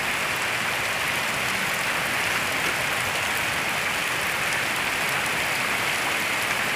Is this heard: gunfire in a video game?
no